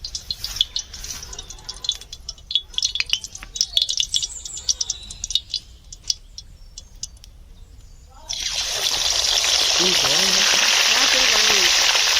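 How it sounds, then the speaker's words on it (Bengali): Hot oil crackling in a heated wok, then a sudden loud burst of sizzling as it takes over and carries on steadily, close up; a voice speaks faintly underneath. "কড়া গরম হয়ে গেছে, তেল দিচ্ছি মাছ ভাজার জন্যে"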